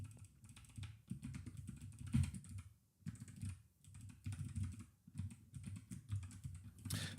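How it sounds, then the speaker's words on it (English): Quick, uneven bursts of typing on a computer keyboard while Rust code is written, close and soft with short pauses between flurries of keystrokes and no talking. "I am typing everywhere and then some."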